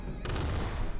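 An army firing a burst of guns in the video game Totally Accurate Battle Simulator, a sudden loud crackle of overlapping shots that cuts in sharply and continues.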